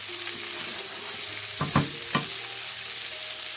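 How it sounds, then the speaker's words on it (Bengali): Eggplant and potato with green chilies and coriander leaves fry in a pan for a Bengali bhaji, hissing steadily while a spoon scrapes and stirs twice in quick succession near the end. Close and fairly loud, with no voices. "এখন ধনিয়া পাতা দিয়ে আবারও সব কিছু খুব ভালো করে মিশিয়ে নিচ্ছি"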